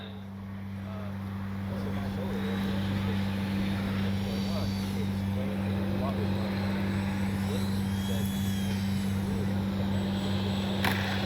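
Flightline OV-10 Bronco RC plane with AS3X+ flying with landing flaps down, a steady propeller drone and low engine hum holding constant throughout, fairly near, with faint outdoor wind noise.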